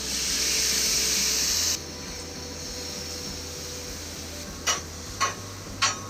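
A short burst of spraying water hisses on a hot Blackstone griddle cooking chicken wings, then a soft steady sizzle with a few sharp ticks.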